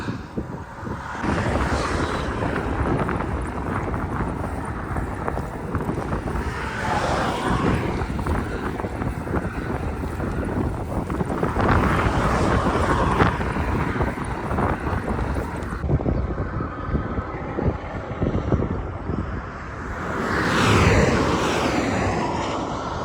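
Strong headwind roars continuously across the microphone during long-distance cycling on a road in Qatar, a loud, gusty buffeting rush that swells and eases throughout.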